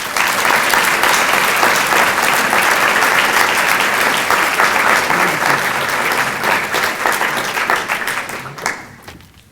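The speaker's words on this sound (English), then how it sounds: "please join me in giving a warm round of applause" A large audience of college students gives sustained, dense applause at a scholars' society event as a keynote speaker is introduced, steady and loud before fading out near the end.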